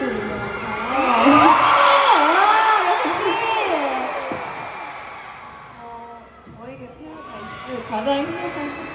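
Fans at a concert at the 2023 Weverse Con Festival scream and cheer in a loud, sustained crowd roar with high wavering shouts, easing off midway and then swelling again.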